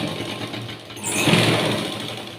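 A sewing machine stitches a fabric strip onto a garment piece with a close, steady mechanical whir that swells louder midway and then eases slightly.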